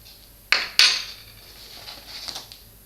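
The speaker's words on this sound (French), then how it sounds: "Une cuillère." A metal spoon clinks against other small objects pulled from a bag, two sharp close knocks followed by fainter rattling and shuffling.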